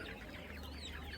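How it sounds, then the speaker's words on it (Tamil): Chicks at the Mukkudal goat market cluck and peep in a brief, faint chorus of overlapping chirps against a busy outdoor market background. "இது வந்து கோழி குஞ்சு,"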